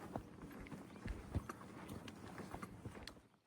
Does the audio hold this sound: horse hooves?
yes